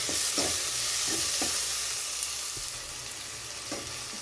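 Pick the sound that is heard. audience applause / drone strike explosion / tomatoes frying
tomatoes frying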